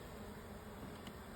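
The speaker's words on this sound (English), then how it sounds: "You can hear the bees really humming down here." Honeybees at an opened backyard hive hum in a low, continuous, quiet drone with a steady texture and no voices over it.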